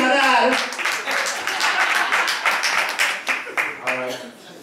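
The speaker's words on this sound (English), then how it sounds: "Give him a round of applause." Brief round of clapping from a small audience at a couples retreat, quick bursts of claps under overlapping voices and shouts that trail off.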